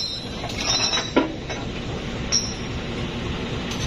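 Economy-class local passenger train on the Cicalengka–Purwakarta line rolling along, a steady interior rumble with a few faint wheel squeals and clinks.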